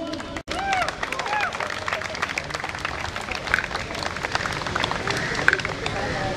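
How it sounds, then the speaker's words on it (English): Audience at a school sports tournament prize ceremony breaking into applause, a dense patter of clapping with crowd murmur and scattered cheers, steady and moderately loud throughout. "big round of applause everyone"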